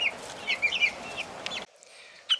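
Hens in a backyard coop give a run of short, fairly close clucks and soft calls, then the sound cuts to near silence with one last faint cluck at the end.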